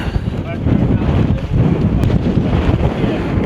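Strong wind roars across the mountain top of Cadair Idris, buffeting the microphone in loud, continuous rumbling gusts with no clear speech.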